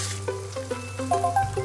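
Fish liver pan-frying in a pan until just lightly golden, giving a low, steady sizzle with a few brief tonal clinks and knocks over it.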